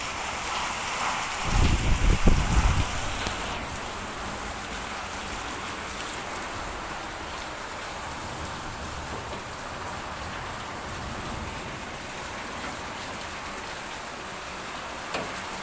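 Heavy rain pours down in a steady, dense wash of noise, with a louder rumbling burst near the start before settling into an even, continuous downpour.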